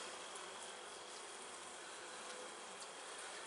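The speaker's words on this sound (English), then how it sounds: "Good number of bees up here." Dense, steady hum of many honeybees buzzing close by at a hive, a soft continuous drone with occasional individual bees passing near.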